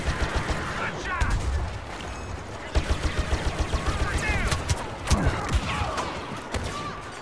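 Blaster pistols fire in a Star Wars Battlefront game, bursts of rapid laser shots with pitch-sweeping zaps among heavier booms and thuds from the surrounding battle, while a player talks over the action.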